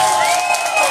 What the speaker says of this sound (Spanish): Díganlo con sus aplausos.